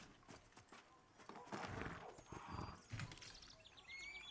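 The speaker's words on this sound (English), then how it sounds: "Where's my horsey?" Horse in the fantasy game Pantheon, hooves clip-clopping in an uneven rhythm with a whinny midway, close and fairly quiet, mixed with soft game effects.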